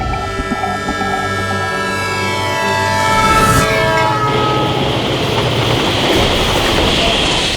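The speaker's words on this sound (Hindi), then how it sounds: "मुंबई एक ऐसा महानगर है जिसकी जीवन रेखा लोकल ट्रेन है" A Mumbai local train rushes past close by, its horn blaring in long sustained tones before giving way to the loud rumble and clatter of wheels on the rails.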